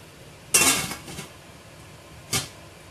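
A metal pot lid clatters down onto a cooking pot of fish, a sharp ringing clank followed by smaller rattles, then one more short clink about two seconds later, close by in a quiet kitchen.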